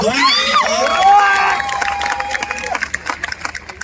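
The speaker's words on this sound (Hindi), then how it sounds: "ऐसे हमारे गुरुजी को जोरदार तालियां दे" An audience honouring a guru bursts into loud cheering and whoops with clapping, strongest at first and then thinning into scattered claps and shouts.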